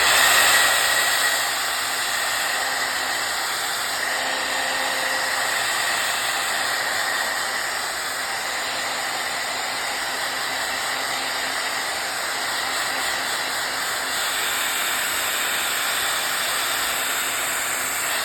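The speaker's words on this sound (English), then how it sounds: "Gonna blow it dry, save some time." A hair dryer roars steadily and loudly close by, blowing a fiddlehead fern mushroom dry, a constant airy whoosh with a high whine that holds for the whole stretch with no talking.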